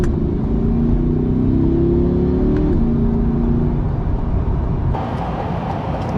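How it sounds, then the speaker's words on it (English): A 2023 Corvette Stingray engine revving hard in manual mode, its loud steady roar sweeping up in pitch through rapid gear changes, with a distinct shift audible near the end. "We're gonna put it in manual right now just to show you how quick, insanely quick these gears are."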